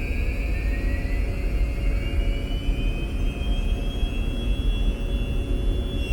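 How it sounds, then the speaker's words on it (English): A ship's mooring winch drum turning during basic checks: a steady loud mechanical drone and rumble, close by, with a thin whine rising slightly in pitch as it runs, and no talk. "you can see the drum turning."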